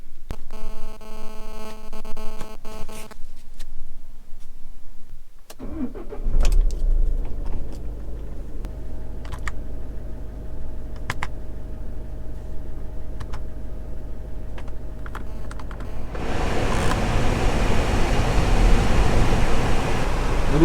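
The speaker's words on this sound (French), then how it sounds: "Le moteur est démarré, les ventiles sont à fond" A Citroën Jumpy engine starts and settles into a steady running hum. Clicks and rattles follow, then the ventilation fans come up to full and a broad rushing blow of air takes over.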